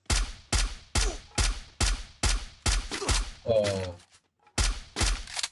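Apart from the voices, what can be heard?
single-shot gunfire in a battle royale video game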